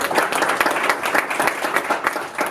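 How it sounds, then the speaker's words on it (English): A keynote event audience applauds a sponsor, a steady dense wash of many hands clapping throughout, fairly loud and close, with no talking over it. "Give them a round of applause."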